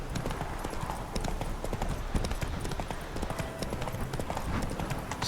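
A horse trots along a road in The Witcher 3, its hooves clip-clopping in a steady, continuous rhythm at close range, with game ambience and a voice faintly underneath.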